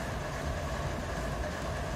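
A freight train running from Victorville to Barstow in the Run 8 train simulator gives a steady, even rumble of rolling wagons, constant and fairly quiet with no voices.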